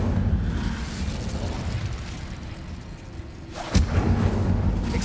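An Incendio fire spell cast in Hogwarts Legacy, with a low rumbling whoosh of flame under constant game noise and a sudden sharp burst near the end followed by renewed roar.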